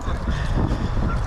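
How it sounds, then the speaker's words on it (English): Canada geese honking in a loose, continuous chorus outdoors, moderately near, with overlapping calls over a short stretch. "Canada geese."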